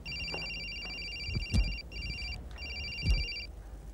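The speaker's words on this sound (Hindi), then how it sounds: "फोन।" A telephone rings in repeated electronic bursts, fairly quiet, with a few soft thumps and movement noises in the room around it.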